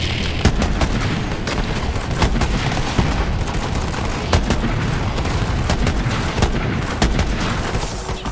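Rapid, loud bursts of gunfire and booming explosions in Borderlands 3, sharp cracks repeating irregularly over a dense rumbling background for the whole stretch, with no talk.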